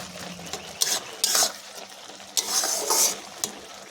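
Ghee frying in a pan with a bottle gourd and milk dish, sizzling in bursts as a utensil stirs and scrapes against the metal several times, close and fairly loud, with no voices.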